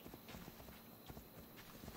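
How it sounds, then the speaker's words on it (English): Quiet rhythmic hoofbeats of a horse trotting in the video game Assassin's Creed Odyssey, a steady clip-clop pattern repeating several times, soft and close. "I will go on my horse."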